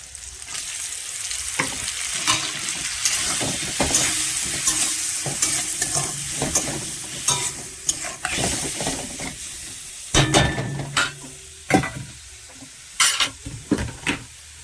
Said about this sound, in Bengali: পেঁয়াজের সাথে ভেজে নেবো চিংড়ি